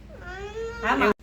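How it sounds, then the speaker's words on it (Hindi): A single drawn-out cat meow rises and swells, then cuts off abruptly, close and clear. "बिल्ली"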